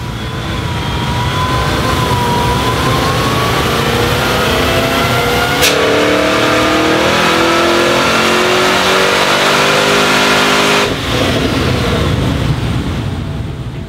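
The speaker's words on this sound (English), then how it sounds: "Let's look at what this new stock LSA Tourer makes on our Dynapack hub dyno." A stock HSV LSA Tourer V8 revs hard on a Dynapack hub dyno, a loud sustained engine roar climbing steadily in pitch through a full pull before cutting off near the end.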